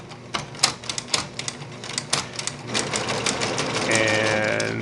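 A Singer 6268 sewing machine stitches a small face design, starting with uneven clacking stitch bursts before settling into a steady fast mechanical whir with a rising hum.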